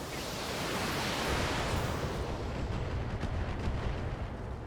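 Heavy mech weapons fire in the BattleTech game, a loud, continuous broadband roar of blasts and rumbling impacts sustained for several seconds with no gaps.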